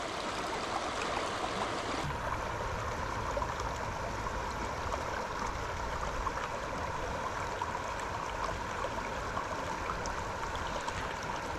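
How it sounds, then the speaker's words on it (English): Steady rushing of river water flowing over rocks, close and constant, with no voices. "I just been enjoying the sound of the water so much more"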